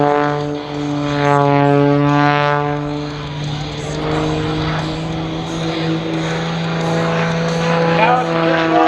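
Aerobatic airplane engine at the Dayton Air Show 2024 during a tight tumble maneuver, a loud, steady propeller drone with a strong harmonic whine that bends in pitch as the aircraft rotates, with an announcer talking over it.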